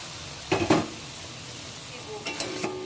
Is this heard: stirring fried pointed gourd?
yes